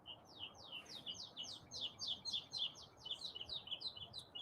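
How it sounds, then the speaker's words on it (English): Birds chirp loudly and repeatedly nearby, a rapid series of bright tweeting calls over a soft outdoor hum. "Wow, can you hear the birds? The birds are very loud this morning."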